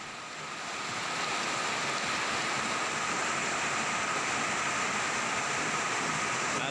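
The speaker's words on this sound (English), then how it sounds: "the rain came down in absolute biblical proportions" Heavy, torrential rain falling around a sailing boat under repair, a dense, unbroken roar that builds in the first second and then holds steady and loud throughout.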